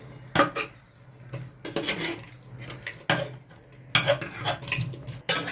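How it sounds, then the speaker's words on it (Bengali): Metal spoon scraping and clanking against a pot as sautéed vegetables are stirred into khichuri, in uneven bursts of stirring with short pauses between them, close and fairly loud. "সবজিগুলো কিন্তু সব খিচুড়ির মধ্যে দিয়ে দেওয়া হলো ভালো করে সাঁতলে"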